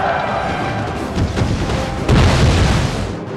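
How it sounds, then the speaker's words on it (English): Grenade explosions during a multiplayer battle in Napoleon: Total War, with grenadiers hurling explosives into an infantry square. Loud, dense booms rumble continuously, and a heavier blast lands near the end. "They counter with grenadiers, throwing explosives into the British square, dealing massive casualties and morale damage to my flank."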